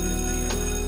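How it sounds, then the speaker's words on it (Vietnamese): A school bell rings steadily over a background with a steady hum, and a brief sharper burst comes halfway through. "Có chuông rồi."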